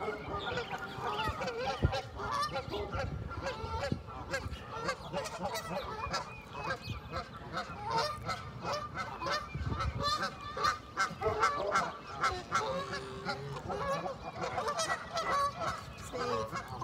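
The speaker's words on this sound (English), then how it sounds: "two of these geese are protecting the nest from other geese" Geese fighting over a nest on a lakeshore honk loudly and repeatedly in a noisy, agitated chorus, harsh calls overlapping continuously at close range.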